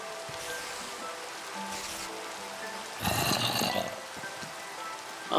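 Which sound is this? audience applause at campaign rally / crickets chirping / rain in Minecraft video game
rain in Minecraft video game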